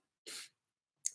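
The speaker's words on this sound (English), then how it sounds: "to sneeze here" A single quick sneeze, close and fairly soft, followed after a short pause by a second sharp breathy burst, in an otherwise quiet room.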